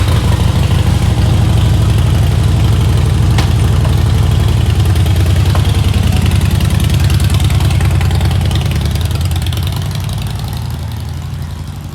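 A Harley-Davidson motorcycle engine idles outdoors while warming up, a loud, steady low throbbing rumble that holds for most of the stretch and eases slightly toward the end, with no talking.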